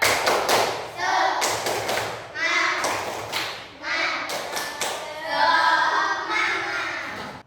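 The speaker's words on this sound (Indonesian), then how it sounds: "Ayo siap, tepuk semangat" A classroom of schoolchildren performs a rhythmic spirit clap, tepuk semangat, in bursts of patterned claps and hand thumps. The children chant along loudly as they clap, with short pauses between phrases.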